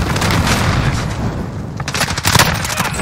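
Dense, continuous gunfire from Call of Duty Warzone, shots and booms piling into a loud, chaotic barrage with sharper cracks near the end.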